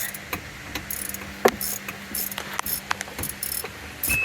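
A bolt is loosened on a SeaDoo Switch engine during an oil change, giving irregular, close metallic clicks and ratcheting ticks over a quiet background.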